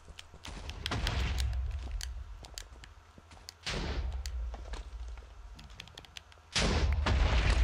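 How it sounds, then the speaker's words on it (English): Explosions in Minecraft during a survival trip into the Nether, two or three heavy booming blasts separated by rumbling stretches, close and loud, with no one speaking. "it blew up in front of me"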